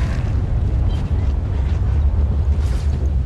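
Boom shot explosions in Gears of War 3 online combat: a loud, continuous low rumble and booming blasts fill the whole stretch, with dense game noise layered on top.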